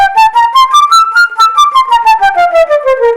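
A flute plays a quick run of separately tongued notes, each crisply attacked in an even rhythm, rising then descending, bright and close.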